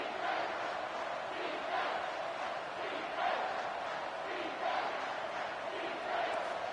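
Football stadium crowd roaring in support of the defense on a big third down, a dense sustained wall of cheering and shouting with rhythmic swells.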